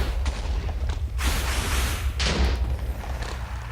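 Two loud, rumbling blasts of a Minecraft explosion during a Wither fight burst out over a steady low hum, each decaying into a roaring noisy tail.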